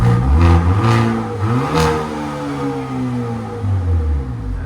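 Revving 2023 Hyundai Kona N hatchback, 2.0L turbo four with an AFE cat-back exhaust, loud and close, with several sharp throttle blips that fall into a steady rumbling idle.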